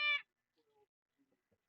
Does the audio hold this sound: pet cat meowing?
yes